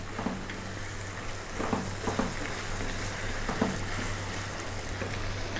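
Ginger garlic paste fried in oil for an Indian lamb curry, a steady close sizzle with soft crackling spurts and a low hum running underneath, no talking.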